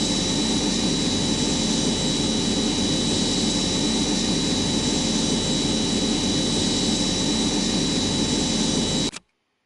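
An airplane engine in a flight simulator game roars steadily at full takeoff throttle, loud and continuous with a high whine on top, cutting off abruptly at the end.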